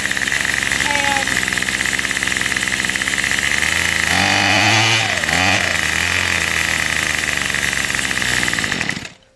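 A Craftsman weed eater engine runs loud and close at a rough, uneven idle, sputters and revs midway, then cuts out abruptly at the end, leaving near silence.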